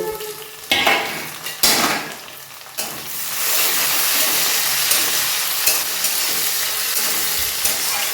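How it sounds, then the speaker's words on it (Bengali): A few utensil clatters, then chopped tomato hits a pan of browned frying onions and sets off a sudden, loud sizzle that holds steady to the end, with no talking. "এর মধ্যে টমেটো কুচিটাকে দিয়ে দেবো"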